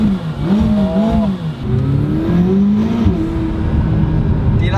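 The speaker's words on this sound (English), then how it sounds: "Just engine noise." A McLaren sports car's engine accelerates up through the revs in a loud, close, steady drone with rising pitch sweeps and brief dips at gear changes, and no talking over it.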